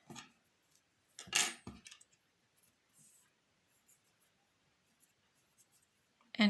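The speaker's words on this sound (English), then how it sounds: "So we cut our yarn" Scissors snip through craft yarn in a few quick, close cuts near the start, followed by faint handling clicks and quiet pauses, with one more sharp sound at the end.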